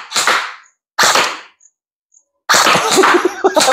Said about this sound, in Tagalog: Fire when ready!